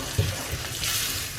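Brief scraping stir of a spoon through sizzling spice masala for egg fry in a hot pan over low flame, with a sharp clink at the end.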